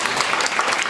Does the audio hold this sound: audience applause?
yes